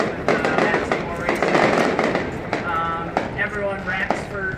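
Fireworks going off after a midget car race at Owosso Speedway: dense, loud crackling bursts and pops fill the whole stretch, with voices and crowd noise mixed in underneath.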